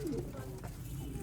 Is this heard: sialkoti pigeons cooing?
yes